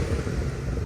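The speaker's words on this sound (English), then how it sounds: "some pure exhaust tones where there's no artificial burbles and just the pure straight 6 noises" Exhaust of a BMW N54 twin-turbo straight-six engine, slightly smoky, giving a steady low, crisp rumble at close range that holds throughout and drops off abruptly at the very end.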